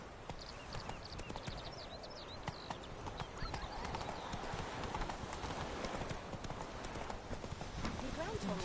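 Roach, a horse in The Witcher 3: Wild Hunt, trotting with steady clip-clopping hooves beneath game music, ambient sound and a voice talking throughout.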